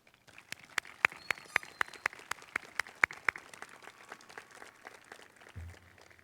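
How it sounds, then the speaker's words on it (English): Graduation audience applause at a 2019 high school commencement, a steady wash of many hands clapping at a moderate distance, with a few sharper claps standing out before it fades near the end. "please join me in a round of applause for the people in your lives who have helped you reach this important milestone"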